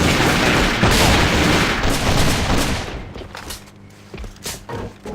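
Grenade explosion in the shooter game AVA, a loud broadband blast with dense rumbling gunfire-like bursts filling the first three seconds, then decaying into scattered thuds and quieter crackles.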